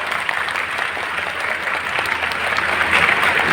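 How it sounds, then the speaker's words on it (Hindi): An audience gives loud, sustained applause for a governor during a class gathering, with dense clapping that builds slightly toward the end. "लास्ट गवर्नर के लिए, कामरान खान टसोरी के लिए जोरदार तालियां हो जाए"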